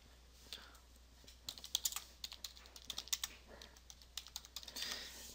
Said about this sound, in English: I'm going to type my Moodle school